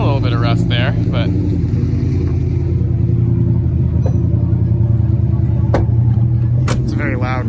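A loud, deep engine rumble from a Ram pickup truck runs steadily throughout, rough and low, with a few brief higher noises and faint voices over it.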